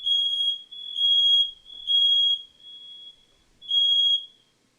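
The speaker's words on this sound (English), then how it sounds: "fire alarm's off again" A smoke-style fire alarm going off: four loud, piercing high beeping bursts with short gaps, the last fading out, with no talking over it.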